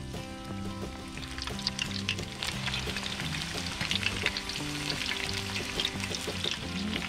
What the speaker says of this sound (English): Now, we will have the second frying.